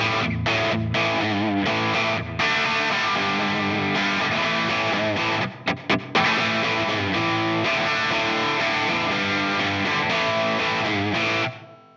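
Crunchy, full-gain electric guitar played through the Brit 800 amp model of an Atomic Amplifire, with dense distorted chords and short stabbing gaps, sustained steadily for about eleven seconds before cutting off.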